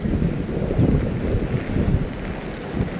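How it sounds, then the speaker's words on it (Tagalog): Heavy rain falls outdoors in Hong Kong, a dense, continuous roar mixed with gusty wind buffeting the microphone, loud and steady with no voices. "Kumusugod kami sa lakas na ulan."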